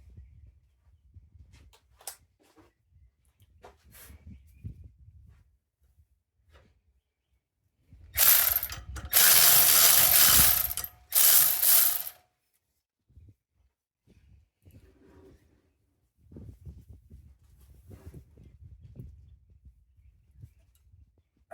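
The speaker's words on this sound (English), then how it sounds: "Let's get that alternator tight." A ratchet tightens an alternator bolt on a C10 pickup truck: a loud, close burst of rapid ratcheting runs for several seconds with a short break, set between quieter stretches of shuffling and low sounds.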